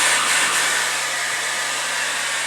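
A hair dryer blows steadily while hair is blow-dried into beachy waves, producing a loud, constant whooshing hum that runs unbroken from start to finish, with no talking.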